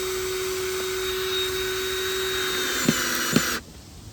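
A power drill whines steadily as it drives a screw through a beer cap used as a washer, with a couple of sharp clicks as it finishes before cutting off abruptly near the end.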